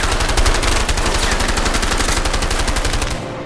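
Rapid automatic gunfire from a video game firefight in A Way Out, a loud, sustained burst of closely spaced shots that runs for about three seconds before cutting off.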